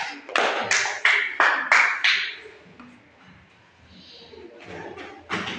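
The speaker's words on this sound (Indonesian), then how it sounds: "Oke, tepuk tangan untuk kelompok 3." Classroom students clap for a group in a short run of sharp, evenly spaced claps that fade to a lull, then pick up again near the end.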